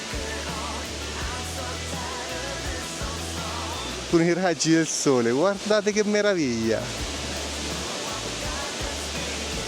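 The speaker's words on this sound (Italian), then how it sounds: "ora andiamo dietro alla cascata" Waterfall heard from a walkway passing behind it, a steady broadband roar close by that runs throughout, while someone speaks excitedly in Italian over it midway.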